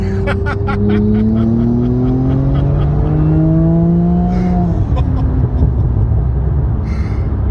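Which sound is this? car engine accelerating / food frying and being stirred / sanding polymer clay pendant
car engine accelerating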